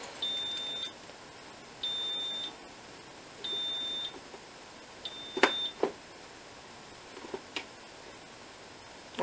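Aviss type 2b fire alarm system giving four evenly spaced high electronic beeps, each under a second long, followed by a few sharp clicks and knocks from the panel in a quiet room.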